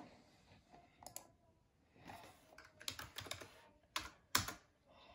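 Fingers type on a new computer keyboard, quiet but close, in irregular bursts of clicking keystrokes with short pauses between runs and a few firmer taps near the end.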